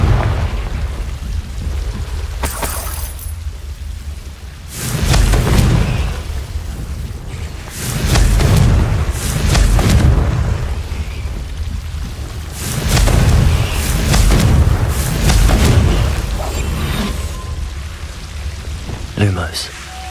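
Confringo spell blasts go off in the game Hogwarts Legacy, landing as several heavy, booming explosions spaced a few seconds apart over low rumbling game ambience.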